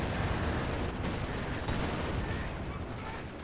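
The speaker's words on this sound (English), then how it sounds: "Incendiary grenade goes off on the Vet 3 rifleman." Incendiary grenade going off on a veteran rifleman in a real-time strategy battle, a dense, loud blast merging into crackling, rumbling gunfire and explosions that fill the whole clip.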